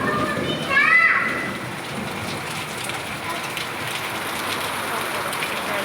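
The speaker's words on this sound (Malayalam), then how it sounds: "ആലിപ്പഴം" Sudden rain mixed with hail falls steadily on surfaces outdoors, a dense even patter throughout, while a voice briefly calls out near the start.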